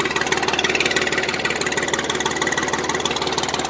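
A Honda 420 engine runs steadily in low gear, a continuous, close, even mechanical drone with a fast pulsing beat and no break in level throughout.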